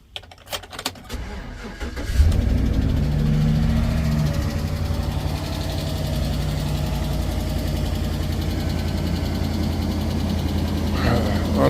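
A van's engine, recently given an engine flush and oil change and running on a weak battery, cranks briefly and then catches, settling into a steady, loud, continuous idle close by.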